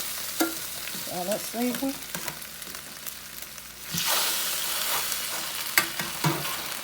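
Turkey wings browning in a seasoned pan give off a steady, close sizzle that swells louder midway, with scraping and stirring knocks, while someone talks briefly near the start.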